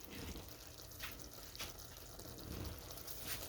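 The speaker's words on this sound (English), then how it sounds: "See that? It's simmering." Taco filling simmers gently in a pan, a faint steady bubbling broken by a few soft pops, with no one talking.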